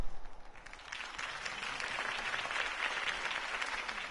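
Crowd applause after a politician's campaign speech in a Batman video game: steady, dense clapping from a large audience held at an even level for the whole stretch, with no voices over it.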